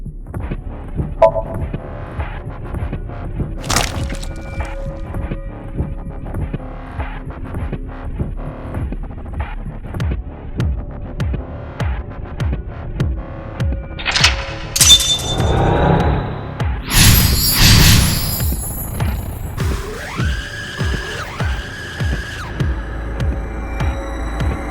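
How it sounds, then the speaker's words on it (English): A sync machine in the video game AI: The Somnium Files gives a steady throbbing hum with repeated pulses, then builds into louder whooshing and shimmering electronic sweeps near the end, with no talking over it. "It's a sync machine."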